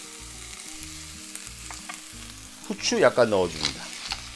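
Button mushrooms stir-fry in a pan with a soft, steady sizzle and occasional utensil scrapes, before a person speaks briefly near the end.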